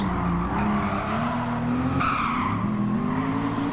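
Race cars, including a Porsche, braking hard and skidding during a Challenge Series race, a loud continuous engine drone with a rising whine and a sustained tire squeal, close and unbroken, with no talking.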